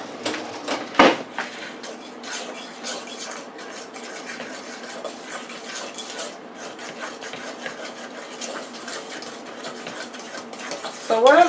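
Corn bread batter with cinnamon and vanilla being mixed in a bowl, a soft, continuous scraping and stirring that stays close and fairly quiet, with a few louder knocks at the start and end.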